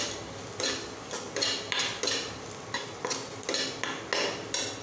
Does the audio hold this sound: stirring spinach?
yes